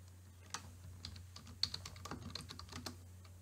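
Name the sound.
typing a table title on a computer keyboard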